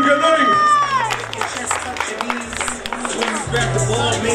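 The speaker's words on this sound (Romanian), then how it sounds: "campionul la powerlifting, Dorin, aplauze" A crowd applauds and cheers for a powerlifting champion at a live event, clapping and shouts mixing with a loud announcer voice and background music.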